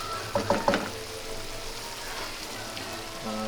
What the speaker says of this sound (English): It's a shrimp stir fry.